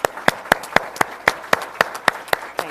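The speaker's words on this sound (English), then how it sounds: "I want to give them a round of applause" Applause for board members at a health care discussion event with Governor Murphy: about a dozen sharp, evenly spaced claps ring out close and clear over a faint crowd background.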